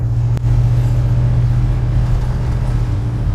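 Chevrolet Bel Air rolling over gutters, speed bumps and potholes, a heavy low engine and road rumble with one sharp thump early on, steady and close throughout.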